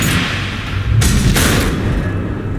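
Missiles explode in the video game Batman: The Enemy Within, a loud, dense rumbling blast layered over continuous low booming, with a sharper burst about a second in that sustains for a moment before settling back into the roar.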